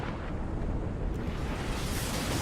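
Enemy ship cannons firing in the Pillars of Eternity 2 video game, heard as a dense, rumbling boom that fills the whole stretch with steady, loud explosive noise and no talk.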